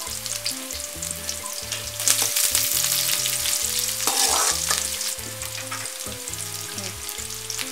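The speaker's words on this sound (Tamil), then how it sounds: "வெங்காயம் வதங்கிடுச்சு." Onions sautéing in a pan for cracked wheat upma, a steady close sizzle and frying hiss with occasional stirring scrapes, while soft background music plays throughout.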